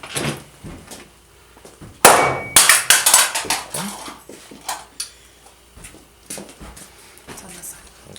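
A heavy weapon strikes a fresh section of a test piece with a sharp, loud metallic clang, followed by several lighter knocks and rattles, with a person talking at times.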